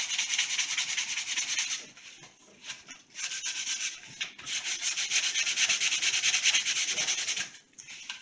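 Sandpaper of 100 grit rubs back and forth across the back of a wooden workpiece, a close, rasping scrub in steady strokes with a few short pauses between passes.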